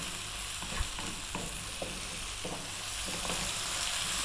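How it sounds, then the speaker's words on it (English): Zucchini and chili frying in a pan while stirred almost constantly: an even hissing sizzle with regular soft scraping strokes of the utensil roughly every half second, close and unbroken by speech. "I'll be stirring it pretty much all of the time."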